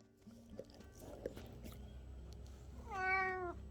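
A cat named Ember meows, its clear rising-and-falling call coming near the end after a quieter stretch of soft rustling and small household noises indoors.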